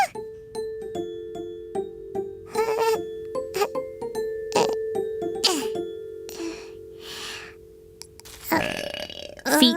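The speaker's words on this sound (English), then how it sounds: "Let's do something to stop your burps." A cartoon character lets out a series of burps, some short and some long and drawn out, mixed with playful musical dings and tones and a few other cartoon sound effects.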